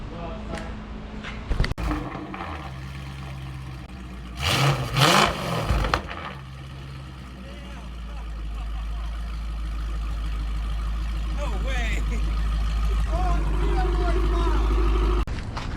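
A Mercedes R230 with a custom welded Corsa exhaust starts up and idles, a deep, rumbling engine note that grows steadily louder and fuller, with people talking and some clattering nearby.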